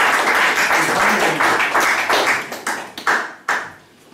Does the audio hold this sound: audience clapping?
yes